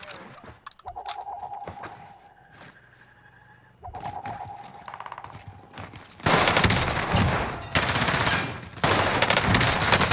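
An MP40 submachine gun fires in Call of Duty on Rebirth Island, with bursts of rapid shots, tonal in-game alert sounds, and then a loud sustained stretch of continuous gunfire.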